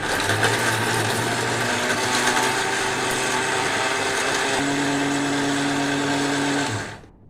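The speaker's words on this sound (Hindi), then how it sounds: "मैं ये केले के छिलकों को मिक्सी में चला लूँगी एक बार" A mixer grinder grinding dried banana peels whirs loudly and steadily at high speed, its pitch shifting slightly partway through before it shuts off and spins down.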